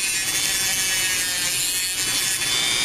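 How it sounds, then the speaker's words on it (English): A Dremel rotary tool wheel grinds and smooths the sharp cut edges of plastic on a Mavic Pro drone battery clip, a steady high-pitched abrasive whir held close and constant throughout, with no talking. "I'm going to take the Dremel wheel and just smooth out the edges here"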